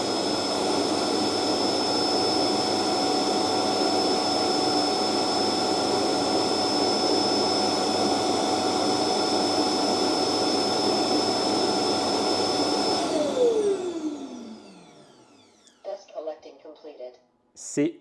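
Neakasa N3 vacuum cleaner base station emptying the dust bin, a loud high whining suction roar that holds steady for about thirteen seconds, then winds down, followed by a few clicks and clunks.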